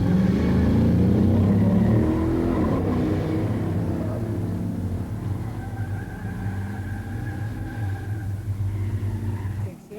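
Two muscle cars launch at a drag strip, a 1971 Pontiac Trans Am 455 HO automatic against a 1970 Buick GSX Stage 1, their loud V8s roaring hard and then fading slightly as they pull away, with a steady engine drone to the end.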